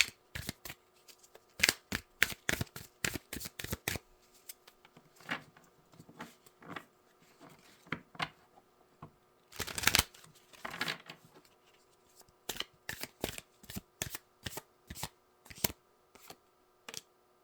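A deck of oracle cards is shuffled nearby in quick, crisp bursts of riffling and slapping, with short pauses between clusters and a few louder flutters in the middle.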